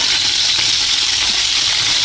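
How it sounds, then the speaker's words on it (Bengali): Fish frying crisp in hot oil makes a loud, dense, unbroken hiss, heard up close with no talking. "মাছ ভালো করে একটু কড়া করে ভাজা করে নেব"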